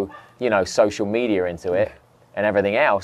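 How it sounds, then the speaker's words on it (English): A neighbor's dog yips and barks behind a man's speech, the barks mixed in close under talking throughout. "It's a neighbor's dog, very angry at this podcast."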